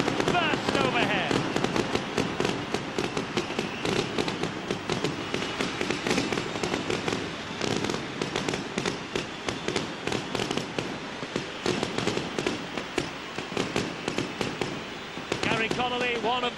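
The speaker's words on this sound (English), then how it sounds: "he looks determined as the fireworks burst overhead" Fireworks bursting overhead at a Great Britain versus Australia rugby league test match stadium in 2001, a dense continuous crackle of pops and bangs under an excited crowd roar.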